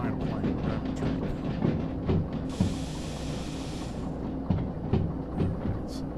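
A train rolling along in a train-driving video game, with steady low rumble and rhythmic clacks under background talk, plus a band of hiss for a couple of seconds midway.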